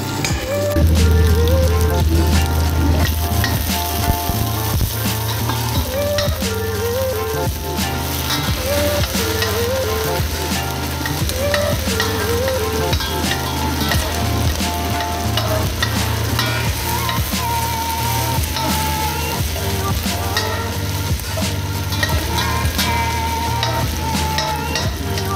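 Chicken skin fries and browns in a pan with a loud, continuous dense sizzle and crackle, steady throughout with occasional spatters and stirring clinks, no talking.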